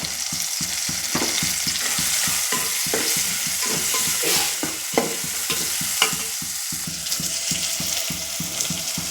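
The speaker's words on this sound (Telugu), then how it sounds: "టమాటా ముక్కలు మగ్గాయండి వాటిలోకి పసుపు యాడ్ చేద్దాం" Tomato pieces with turmeric sizzle in a pan while a spoon scrapes and stirs in a quick, regular rhythm of close, sharp strokes over a steady frying hiss, with no voices.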